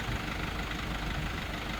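A Mercedes Sprinter van's engine, in good running condition, idles steadily nearby, a low continuous rumble with no talking.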